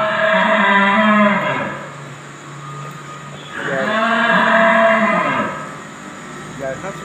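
Bulls on a cattle farm in Củ Chi, Vietnam, give two long, loud, drawn-out moos close by, separated by a short pause, over a faint background hum.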